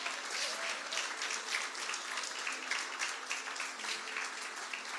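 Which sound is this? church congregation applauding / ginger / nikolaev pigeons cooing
church congregation applauding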